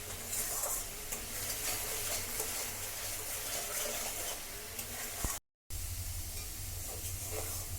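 A spice paste frying in a pan gives a soft, continuous sizzle and bubbling with faint scraping over a low kitchen hum. It is fairly quiet and steady, with one brief dropout and no talking.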